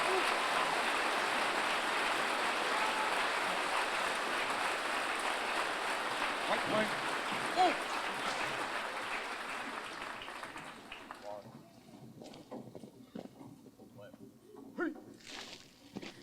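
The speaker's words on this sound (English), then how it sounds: "Please join me in a round of applause for our retiree and his family" An audience at a military graduation ceremony applauds a retiree and his family, with dense, steady clapping that fades after about ten seconds into scattered claps and quiet room noise.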